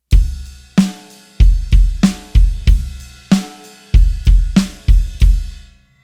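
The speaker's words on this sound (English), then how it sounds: "Try it with the ride cymbal, sounds like this" A beginner drum beat played on a kit with the ride cymbal over kick and snare, a steady groove of about fifteen strokes, close and loud, ringing metallic shimmer sustaining between the punchy hits.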